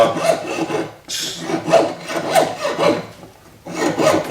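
A saw rasps through metal in quick back-and-forth strokes while cutting around corners for a cuff bracelet, loud and close, with short pauses between bursts of scraping.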